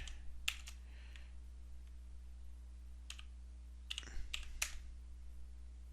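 Login and password typed on a computer keyboard, with scattered clusters of soft key clicks and a quicker burst of keystrokes near the end, close and quiet over a low steady hum, no talking.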